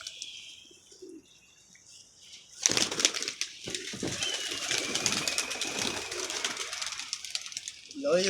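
Pigeons coo and flap their wings close by while one is caught in the hand. Faint calls come first, then a burst of wing flapping and rustling, with a soft coo near the end.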